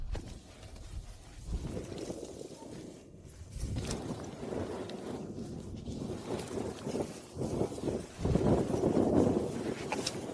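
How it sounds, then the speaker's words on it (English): Strong gusty wind buffeting a spring fishing spot by the water, a steady low roar that swells and fades, loudest toward the end. "A strong wind arose. The wind changed its direction. Now it blows."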